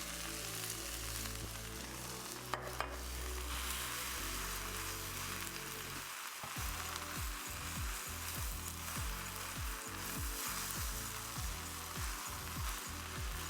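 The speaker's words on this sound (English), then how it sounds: "now we're just working in the sauce into the noodles and the vegetables" Chow mein noodles and vegetables are stir-fried with sauce in a pan, giving a steady crackling sizzle. Partway through, a run of rhythmic scraping stir strokes starts and repeats close up.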